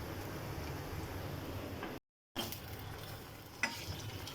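Meat stirred into okra for bhindi gosht in a pan, giving a steady close sizzle with stirring scrapes, a brief gap, then continued frying and a sharp clink near the end.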